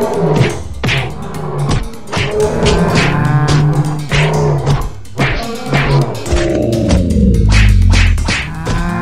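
Cattle mooing loudly in a video game animal-attack battle, several overlapping moos in quick succession mixed with thumps and whacks of the fight, close and dense throughout.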